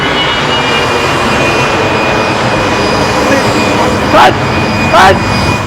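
A loud, steady jet-engine roar fills the whole stretch, with a high whine on top and two quick whooshing sweeps near the end.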